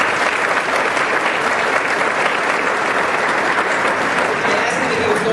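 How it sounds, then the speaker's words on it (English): A large audience at an economic outlook conference gives loud, sustained applause, a thick uniform roar of clapping with faint crowd noise mixed in, holding steady from start to finish. "Let's give him another round of applause."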